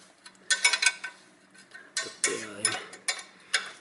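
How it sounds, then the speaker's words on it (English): A 12mm wrench turning clutch bolts during a front-wheel-drive car clutch replacement, giving a string of close, sharp metallic ratcheting clicks in short irregular bursts. "I can a little bit use my 12mm wrench, and I can a little bit fasten these bolts"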